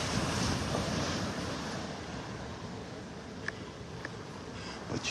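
Surf rolling onto Vanderbilt Beach in North Naples, a broad continuous roar of waves mixed with wind buffeting the microphone, with a few faint clicks near the end.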